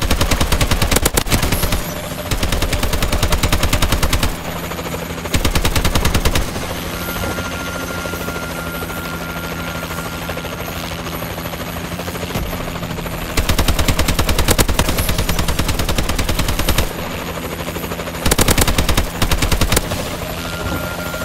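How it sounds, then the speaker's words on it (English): A Warbird gunship from Call of Duty hovers with a loud, continuous rotor roar while rapid machine-gun bursts erupt in repeated volleys of a few seconds each, dense and close throughout. "Friendly warbird in the air."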